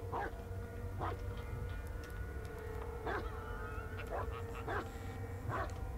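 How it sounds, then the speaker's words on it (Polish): Dog barking in short bursts, roughly five barks spaced about a second apart, fairly distant and faint over a low rumbling background. "To mój pies szczeka."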